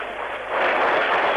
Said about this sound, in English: No point competing against that applause